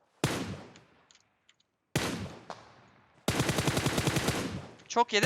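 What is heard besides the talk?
gunfire in video game PUBG Mobile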